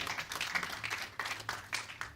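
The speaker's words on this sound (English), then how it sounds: "a Conservative Party event where people are clapping" Audience applause at a Conservative Party event, a few seconds of scattered clapping from a gathered crowd, fairly soft and steady with small bursts.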